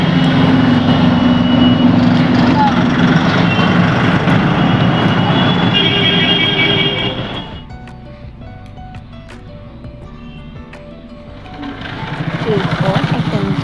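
An e-rickshaw (toto) ride with three passengers on a hot midday road: a loud, steady motor and road rumble that drops to a quieter hum midway, then swells again near the end, with faint voices in the background.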